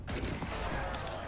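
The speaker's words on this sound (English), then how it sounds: "Why is there gunshots being fired?" Gunfire from a battle in the strategy video game Europa Universalis 4, a faint crackling fusillade of shots under steady game background sound, with no voice.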